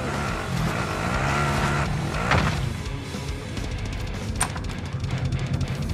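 A car engine drones steadily while being driven in a Modern Warfare 2 multiplayer match, a continuous close motor hum with slight pitch shifts and a brief clunk midway.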